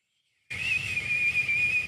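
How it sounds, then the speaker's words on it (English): A person attempting to whistle produces a single breathy, slightly wavering whistled tone with audible air hiss, starting abruptly after a brief silence and held close to the microphone. "I can't whistle very well."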